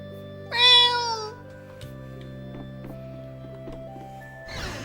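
A cat in the video game Tales of Vesperia gives a single clear, rising meow over a steady background music drone, followed by soft chimes and a short rustle at the end.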